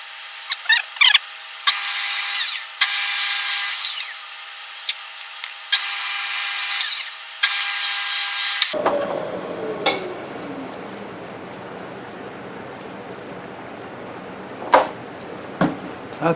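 A power tool taps bolt threads in short, repeated whirring bursts that start and stop several times, followed by quieter workshop clatter with a few sharp knocks.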